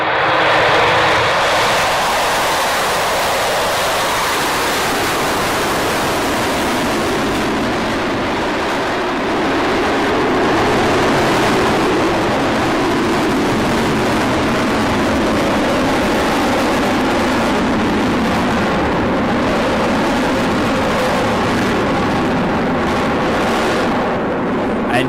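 Avro Vulcan bomber engines playing from a recording: a loud, continuous broadband roar that swells and holds steadily for the whole stretch, with no talk over it.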